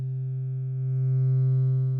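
A Mother 32 synthesizer sends a sine wave through a feedback effect, making a steady, loud, sustained tone with a buzzy harmonic edge that swells slightly midway.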